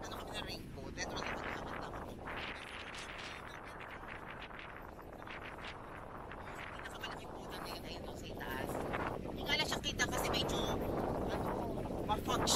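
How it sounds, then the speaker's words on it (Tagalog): Strong wind roars and buffets the microphone on a foggy outing to the Black Palace in Cambodia, a continuous rushing gust that grows louder toward the end, with people talking over it. "sobrang lakas ng hangin"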